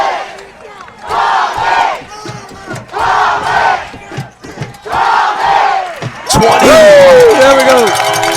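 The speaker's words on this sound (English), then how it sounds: "Listen to the crowd" A football stadium crowd at a high school state championship regional final roars in loud repeated surges of rhythmic chanting and cheering, then breaks into a sustained roar as a whistle sounds.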